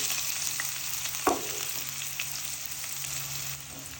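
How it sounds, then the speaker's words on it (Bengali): Chopped onion drops into hot oil with a brief crackling burst, then a steady soft sizzle continues for a river aair fish curry, with a faint clink; no talking. "তেল গরম হয়েছে দিয়ে দিব পেঁয়াজ কুচি"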